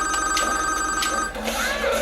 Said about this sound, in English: now the fucking phone's ringing.